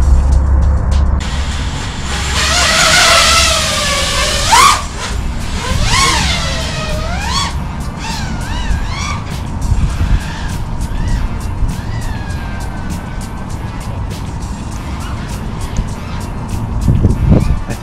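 An FPV punch-frame drone on Juicy Prop J37 propellers ripping through the air, a loud continuous whirring buzz that rises and falls in pitch with repeated throttle swoops, with steady wind rush throughout.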